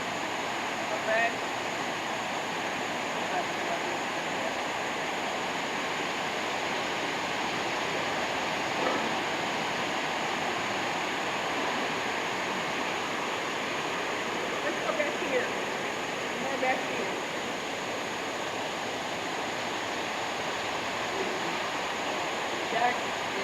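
Waterfall and water flowing through the grounds of a resort, a steady loud rushing wash that fills the whole stretch without pause, close and constant.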